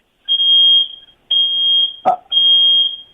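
Kitchen oven sounding an electronic beeping alarm in the background: three long sustained high-pitched tones with short gaps, a brief sharp knock between the second and third, and no talk over it.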